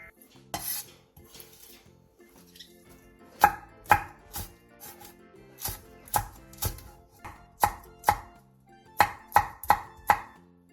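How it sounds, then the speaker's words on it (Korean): A knife chops green onion and chili peppers on a cutting board, making crisp, close knocks that start sparse and become a quicker regular rhythm, with no talking. "대파 3분의 1개, 청양고추 1개, 청양홍고추 1개를 길게 어슷썰게 해주세요."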